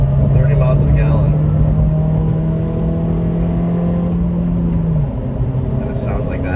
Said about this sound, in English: The turbo sounds great, the exhaust sounds great, the intake sound, the VTEC sounds great.